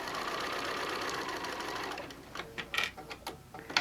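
A sewing machine stitches steadily and loudly for about two seconds, then runs in short stop-start bursts as the fabric is turned around corners while sewing animal shapes.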